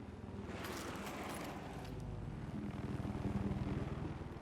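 A helicopter in Battlefield 4 during an 8v8 Conquest league match. Its rotor rises into a rhythmic low thudding over a droning engine and grows slightly louder toward the end. No one speaks.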